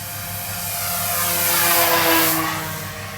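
HC Hobby Mosquito twin-engine RC model plane flying overhead, a steady buzzing drone that swells slightly as it passes and fades, with no talk.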